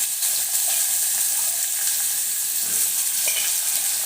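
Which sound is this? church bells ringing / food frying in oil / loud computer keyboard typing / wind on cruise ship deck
food frying in oil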